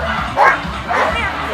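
A one-year-old Border Collie barks and yips a couple of times at a flyball event, loud and close over a noisy background with voices.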